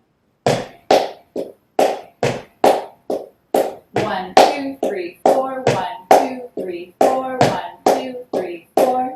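Sharp flamenco palmas hand claps in a steady, accented tangos rhythm, close and crisp, with a voice counting along the beats.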